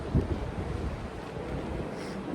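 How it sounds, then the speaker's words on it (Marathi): Sea surf and coastal wind at Devgad beach near a windmill garden, a steady broadband roar with gusty rumble throughout, no voices. "इथे मागे बघा एकदम मस्त समुद्र आहे"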